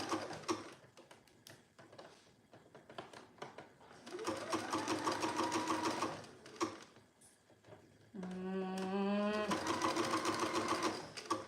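A domestic sewing machine stitches a sweatshirt in several bursts, each a rapid whirring run of needle strokes with rising and falling motor pitch, separated by pauses with small mechanical clicks and handling noises.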